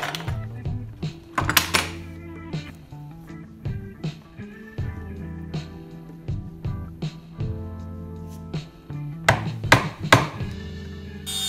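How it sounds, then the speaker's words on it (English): A chisel strikes the marked front edge of a wooden bedside table piece to stop tear-out. The close, sharp knocks come in irregular bursts, with denser clusters near the end and no talk. "then used a chisel to stop tear out"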